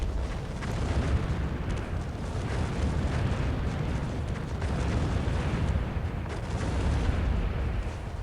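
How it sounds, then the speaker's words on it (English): Cannon fire in the real-time strategy game Earth 2150 during a 2v2 match: a dense, continuous rumble of overlapping booms and bursts from many guns at once, loud and sustained without a break. "The number of blue cannons firing is at least twice the number of yellow cannons firing."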